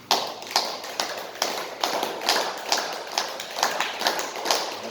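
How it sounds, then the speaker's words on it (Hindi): A group claps hands in a steady, even rhythm during a yoga session, the sharp claps repeating roughly twice a second with a faint room echo. "फिर तालियां बजाएं।"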